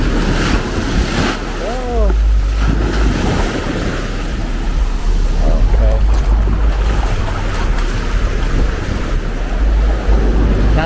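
Ocean surf off Hawaii washing and churning close by, with steady wind buffeting the microphone and water sloshing around as someone wades in.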